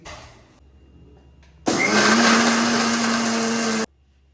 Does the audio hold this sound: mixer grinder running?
yes